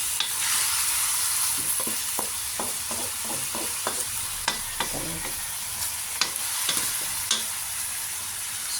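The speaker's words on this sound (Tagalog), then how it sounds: "Haluin natin hanggang sa nagisa na siya" Adobo sa gata ingredients being stirred and sautéed in a pan, with a steady sizzle of frying under repeated scraping and stirring clicks of a utensil, close up and without talk.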